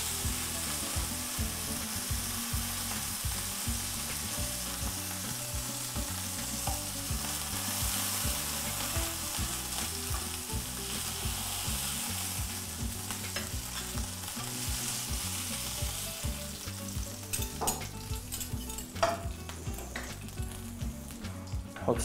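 Salmon fillet frying in a hot pan gives a steady, close, loud sizzle and crackle that runs throughout, with a few sharper pops and spatters near the end and no voices.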